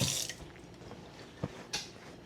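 Potatoes rinsed in a kitchen sink, with a burst of running water at the start, then quieter splashes and a couple of sharp drips and clunks as they are handled.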